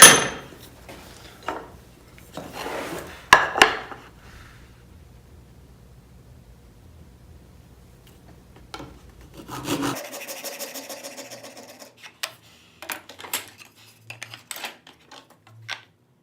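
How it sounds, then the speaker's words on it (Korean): A hand saw cuts wood for a dovetail drawer joint, with rasping strokes for about ten seconds, then a quieter stretch of light taps and scrapes. No one speaks. "얘를 톱질을 해서 한번 잘라서 마무리를 짓고요"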